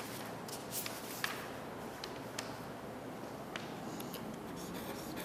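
Chalk or marker scratches faintly on a classroom board in short, irregular strokes and taps, over a steady background hiss with no talking.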